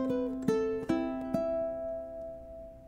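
Bars 13 and 14 of a theme from Harry Potter are plucked on a ukulele as a slow melody of four clear, close notes that ring and fade out at the end.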